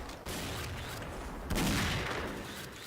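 Gunfire in the shooter game X_SHOT sounds as a dense, continuous barrage of shots, loud and noisy throughout, with a heavier burst midway.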